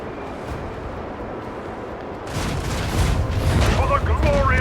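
Ship macro cannons fire in the space-combat video game Rogue Trader: a deep booming barrage rolls in and builds into sustained heavy rumbling, with a voice talking over the blasts.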